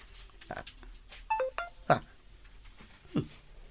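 A text message notification in an Ilocano-language drama episode sounds as a short run of electronic beeps, fairly close and clear, with scattered voices and small noises around it.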